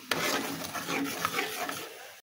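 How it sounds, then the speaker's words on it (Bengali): Vegetables for shukto are added to a pan and stirred, producing continuous scraping and rubbing with a faint sizzle underneath, close and without speech. "আমি এটা একটু হালকা নাড়াচাড়া করে আমার সবজিটা আমি এখানে দিয়ে দিই"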